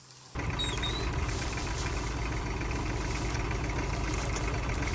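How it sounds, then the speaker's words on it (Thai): A large farm tractor engine starts up and runs steadily at a sloped water-pumping site, a loud, continuous low rumble with a knocking diesel texture that holds constant after a brief quieter moment at the start. "วันนี้เราจะใช้รถไถใหญ่นะคะ"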